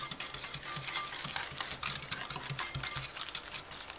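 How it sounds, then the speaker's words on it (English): Egg yolks and sugar being whisked together for a custard base, heard as a steady rapid scraping and clicking of the whisk against the bowl, close and continuous without talking. "we're just going to whisk that. Whisk that together."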